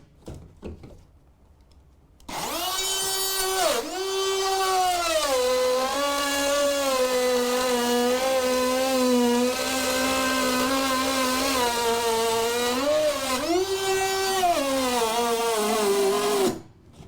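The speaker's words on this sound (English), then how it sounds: "This is the Dewalt cordless 20 volt max router." A Dewalt 20-volt max cordless router cuts wood paneling with a loud, sustained tonal whine that dips in pitch under load and recovers, running about fourteen seconds before spinning down.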